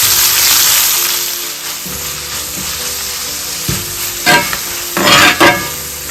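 Red onions and spices frying in a pan for a squid dry fry, a loud close sizzle that settles, then a few bursts of scraping stirs near the end.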